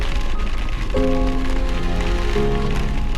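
Rain falls steadily in Alaska's McLaren River Valley along the Denali Highway, a dense, continuous hiss of drops that stays loud and even throughout, with a faint tonal hum running underneath.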